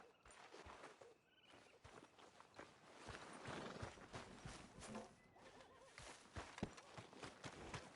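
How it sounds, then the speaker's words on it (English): A horse in the video game Red Dead Redemption 2, with neighs and clip-clopping hooves heard through busy game ambience and effects. "Are you gonna mount that new horse of yours or not?"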